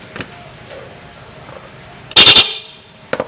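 A loud dual car horn on an interrupter relay sounds in a rapid pulsing burst, chopped into quick repeated blasts, followed by a short final toot after a brief pause.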